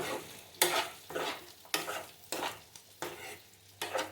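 Pumpkin pieces frying in a pan are stirred and turned in five or six distinct scraping strokes over a soft sizzle, close and evenly spaced.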